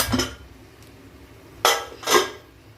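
A metal pot lid is lifted off cooked vegetables for a vegetable kurma, giving a sharp clank at the start and two more close, bright metallic clatters about a second and a half later, with quiet between.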